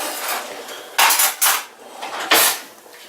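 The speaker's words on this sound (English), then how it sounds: "Now I need to stir the rice." Spoon scraping and clacking against a pot while rice is stirred, a few sharp metallic knocks amid soft scraping, close and alone.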